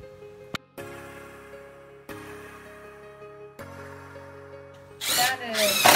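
A power saw cutting wood whines in several bursts separated by short pauses, steady and close, with a brief voice at the end.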